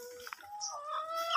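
Chickens in a net-covered coop shaded with guinea grass cluck and murmur briefly, a few short calls close by with a quiet background.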